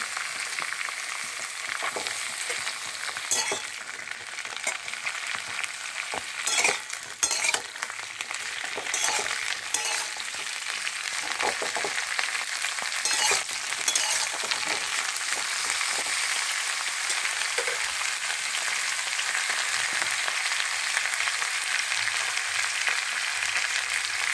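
Eggplant and flat beans frying in an oil-filled pan for a tangra fish and onion-stalk dish, a steady close sizzle with brief scraping stirs and clinks scattered through, no voices.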